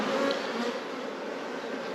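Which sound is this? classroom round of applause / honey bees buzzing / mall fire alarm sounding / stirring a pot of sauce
honey bees buzzing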